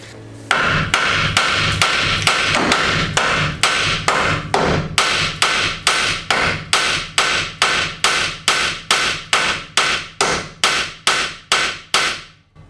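Hammer repeatedly striking a front ball joint on a BMW E30 during a suspension swap, loud sharp metallic blows at a steady rhythm, around twenty-five hits, close up with no talking.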